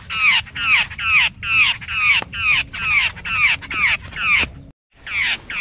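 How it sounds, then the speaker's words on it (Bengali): A jungle babbler caught in a tree gives repeated loud, harsh calls in a steady rhythm, about eight close bursts, with a short gap before one more call. "একটা ছাতারে পাখি, জঙ্গল ব্যাবলার, সেটা আটকে গেছে একটা"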